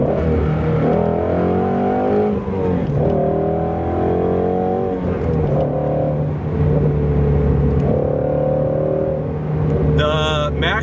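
A Shelby GT350 V8 revs repeatedly from idle up to about 6,000 RPM, each loud climbing rev rising and falling in steady succession, close and dominant, with a brief higher rev at the end.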